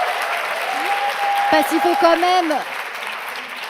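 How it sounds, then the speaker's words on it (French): An audience applauds steadily at the Prix Jules Favre 2024 final, a dense clapping texture that continues while someone speaks over it partway through. "S'il vous plaît, on applaudit pour la meute."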